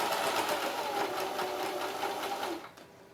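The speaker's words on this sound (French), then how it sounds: "Je fais une petite marche arrière au début pour être sûr que j'ai bien tout cousu." A sewing machine backstitches at the start of a seam on a bamboo towel, a steady fast mechanical whir close by, running alone for a few seconds before easing off at the end.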